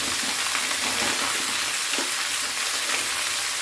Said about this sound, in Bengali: অনেকটা সবজি, একটু ভাজতে একটু সময় লাগবে।